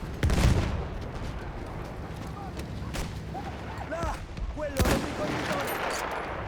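M1903 sniper rifle fire in the World War I shooter Battlefield 1: three sharp, loud shots spaced a couple of seconds apart, over a steady battlefield din with faint background voices.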